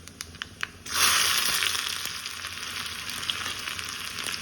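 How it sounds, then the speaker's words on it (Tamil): Mustard seeds hit hot oil in a pan for a Tamil sambar with mango, brinjal and drumstick, giving a sudden loud continuous sizzle with crackling pops after a few light taps, close and without talk. "எண்ணெய் வச்சுருக்கேன். இதில் வந்து கடுகு போட்டு"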